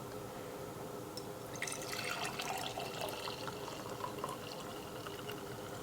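Hot water poured into a container: a steady, close trickle that builds into a splashing, bubbly fill.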